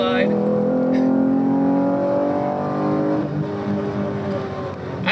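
A Chevy Camaro RS with a V6 pulls hard in third gear on a wet road, its engine note climbing steadily and then easing off, heard up close and loud from inside the car.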